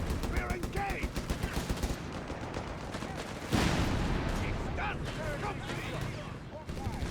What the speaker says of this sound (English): 50 cal letting loose.